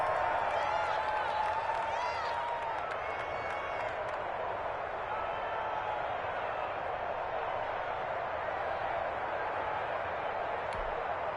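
Crowd noise from a Madden football video game on PS4 swells steadily ahead of a big third down, a broad continuous roar with cheering peaks early that settles into a sustained crowd bed.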